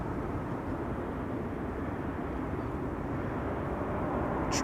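A KLM Boeing 737-800 arriving at Amsterdam Schiphol from Billund makes a steady, broad jet roar at moderate distance, holding even throughout with no voices.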